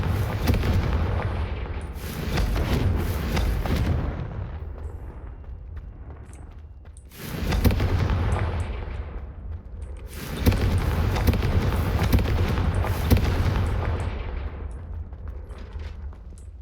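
Repeated Confringo explosion spells blasting in the video game Hogwarts Legacy, loud booming bursts with rumbling decay, several big hits recurring across the stretch and a dense roaring tail between them.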